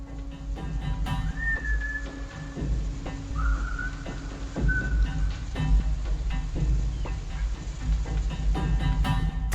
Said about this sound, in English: a strange whistle is heard in the night